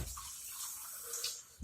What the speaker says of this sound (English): I might want to add a little more water to this